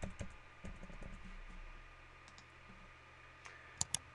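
Typing an email address and password on a computer keyboard: soft, quiet key clicks in scattered bursts, ending with two sharper isolated taps.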